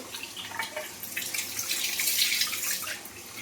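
Raw prawns for a cabbage and potato curry are rinsed under a running kitchen tap, a steady close splashing hiss of water that swells slightly toward the middle before easing off, with no voices.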